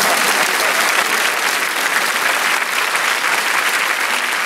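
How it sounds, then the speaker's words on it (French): Loud, dense applause from a television studio audience in Paris greeting a guest seated among them, a steady roar of many hands clapping close by. "on peut l'applaudir, Régine qui est parmi nous."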